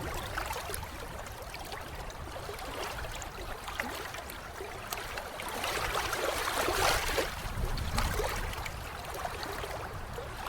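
A boat moving through rising flood water at night, with a steady wash of water against the hull and gentle splashing that swells a little midway, continuous and fairly close, with no talk.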